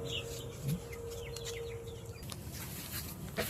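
Free-range native chickens and chicks clucking and peeping quietly on a farm, with scattered soft clucks and small chirps over a steady background hum, faint and fairly distant.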